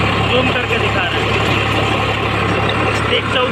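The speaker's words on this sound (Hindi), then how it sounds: "आयसर 551 है, ठीक है, फर्स्ट के लो में चल रहा है" An Eicher 551 tractor engine runs in first low gear, a loud, close, continuous diesel rumble with a steady low throb, someone speaking over it.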